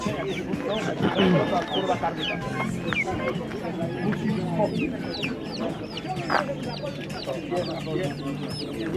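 A busy poultry market full of turkeys, with overlapping clucks, gobbles and chirps, and people talking nearby throughout.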